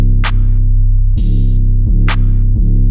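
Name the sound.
trap hi-hat pattern with every ninth step removed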